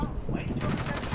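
Defensive machine guns of a B-17G bomber firing in War Thunder, a rapid rattling burst that fills the second half over a constant engine drone.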